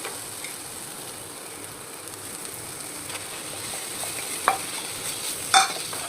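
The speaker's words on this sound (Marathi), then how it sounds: "आता यामध्ये मी पनीर टाकणार आहे" Paneer cubes tossed into a frying pan of sautéed onion for a restaurant-style paneer curry, giving a steady soft sizzle with a couple of brief spatula scrapes and clinks, close and fairly quiet, no talking.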